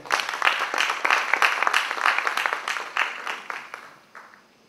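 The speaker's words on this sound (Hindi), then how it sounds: "हम चाहते हैं मंच को तालियों से सम्मानित करें।" An audience applauds before a classical concert of raga Hansdhwani in Mumbai, a dense, steady roll of clapping that fills the room and fades out toward the end.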